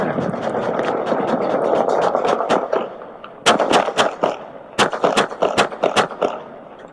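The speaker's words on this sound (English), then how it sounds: "Suspect down, shots fired." Police gunfire during an officer-involved shooting in Fresno, heard as a series of sharp, loud shots in two quick clusters over rumbling background noise.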